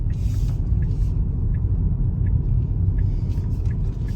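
Busy town traffic in Milton Keynes heard from inside a moving Tesla Model Y, a continuous low rumble of road and engine noise with faint brake hisses and ticks over it.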